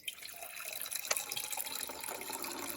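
Water pours steadily from a jug into the top reservoir of a Berkey gravity water filter in an off-grid home, a continuous close splashing fill with brief louder splashes.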